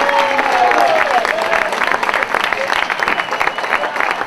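At an end-of-season party for a youth football club, an audience breaks into loud, sustained applause that slowly thins, with a voice speaking over it at the start.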